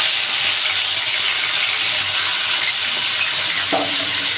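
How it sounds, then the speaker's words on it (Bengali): Shrimp frying in oil in a pan for shrimp bhuna, a steady close sizzle and hiss running without pause, with a brief clink of a utensil near the end. "মাছগুলো একটু বেজে নেবো ভালো করে।"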